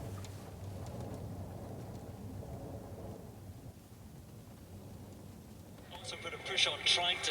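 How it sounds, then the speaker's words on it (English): Rain falling at East Beach in the Outer Hebrides, a steady low wash with distant rumbling, growing louder toward the end. "we've arrived just in time for it to rain"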